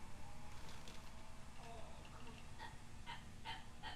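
A sweet young female puppy whimpers and breathes close by in short, soft high cries that cluster toward the end, over a constant low rumble of background noise.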